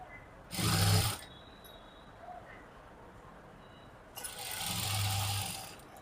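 A sewing machine stitches a heavy-size blouse in two short bursts, a brief run near the start and a longer one later, with quiet pauses between.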